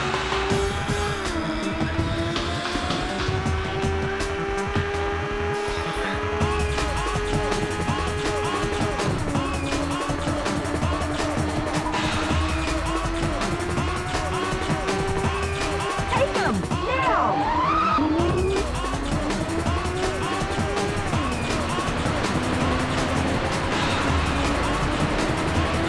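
Race cars in a retro console racing game, heard as continuous buzzy engine tones that wobble and shift in pitch throughout, with a brief swooping sweep midway, steady and fairly loud over game music.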